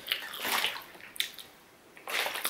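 Volvic bottled water poured out in bursts, a splashing, hissing stream that runs, pauses and resumes, close by with no voices over it.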